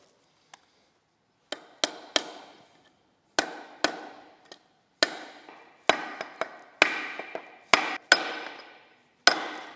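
Sharp hammer taps on a socket driving an oil seal into the gearbox of a Jeep Cherokee XJ, about twenty crisp metallic knocks in irregular clusters, close and distinct with quiet gaps between.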